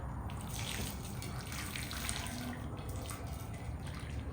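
Faint hot water pours and trickles steadily into a discada pan, a continuous gentle splashing and hissing with no talking.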